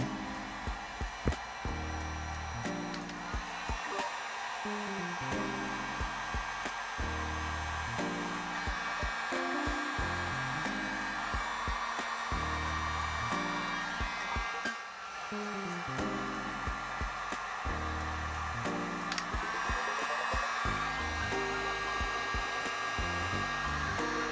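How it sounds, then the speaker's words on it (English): A heat gun blows with a steady, loud fan roar and hiss, shrinking heat-shrink tubing over the wires of LED turn signals; the airflow wavers slightly over a long stretch with no talking. "it's time to use a heat gun"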